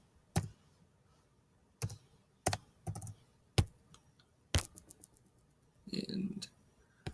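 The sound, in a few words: typing keys to enter a calculation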